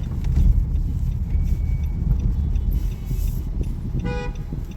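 Cars idle and creep in a road traffic jam as engine rumble and tyre noise fill the air, and a short car horn toot sounds near the end.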